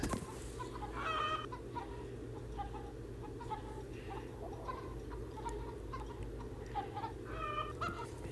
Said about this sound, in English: All these chickens.